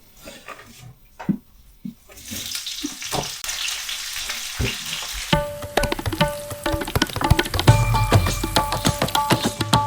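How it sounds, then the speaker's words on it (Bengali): Sliced onions with dried red chillies fry in hot oil for a Japanese-style mutton curry, a steady sizzle broken by clinks of a stirring spoon, turning louder and busier toward the end. "পেঁয়াজ একবারে লাল লাল হয়ে ভাজা হয়ে এসছে"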